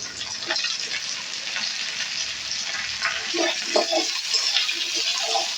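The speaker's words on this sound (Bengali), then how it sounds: "আলুটাকেও এর সঙ্গে আমি ভেজে নেব" Potato pieces and half-fried onion frying together in a pan, a loud continuous close sizzle with a few soft stirring knocks near the end.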